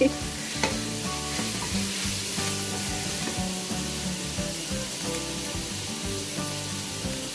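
Ginger and garlic paste fries on a medium flame for a beef pepper fry, a steady, close sizzle broken by occasional stirring scrapes and light clinks.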